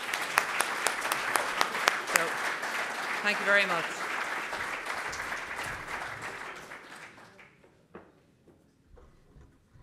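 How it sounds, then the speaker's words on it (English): Applause from an audience at an alumni evening reception, dense clapping at first that thins out and fades after about six seconds, with someone speaking briefly over it near the end. "so I'd like to give her a round of applause, please."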